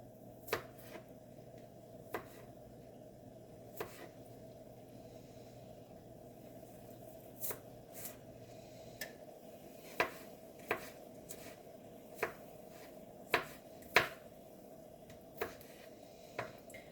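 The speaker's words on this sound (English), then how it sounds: "So I'm just cutting this in half because I want the onion to break apart lots." A knife cuts green onion on a cutting board, the onion halved for ramen, giving sharp scattered chops that come several times a second toward the end, close and fairly quiet over a low steady hum.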